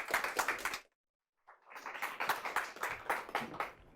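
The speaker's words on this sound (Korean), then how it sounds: "큰 박수로 모시겠습니다" Audience clapping welcoming a jazz producer onto a talk stage, dense applause that drops out briefly into silence and then resumes steady and close.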